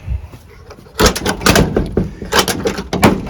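The cab door of a 1986 Ford F350 pickup truck is worked, with a sharp latch clunk and a rattle of the door moving, followed by further close handling knocks and thuds, with no one speaking.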